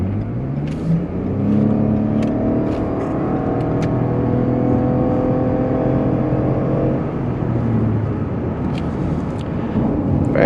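A Lexus RX450h hybrid SUV engine revs steadily and climbs in pitch as the vehicle accelerates, with a smooth, sustained hum and no talking.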